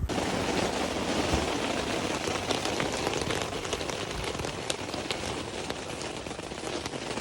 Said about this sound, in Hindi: अब बहुत तेज़ बारिश शुरू होने वाली है